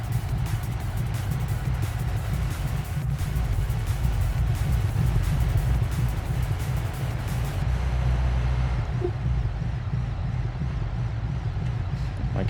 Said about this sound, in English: Let's see what the race dual exhaust sounds like.